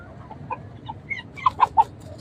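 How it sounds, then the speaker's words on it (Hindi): An Aseel rooster at a bird market gives a run of soft clucks, building to three louder, closer clucks in quick succession over a low background murmur. "ये दूसरा पल्ला है, खूबसूरत पल्लों का मुर्गा"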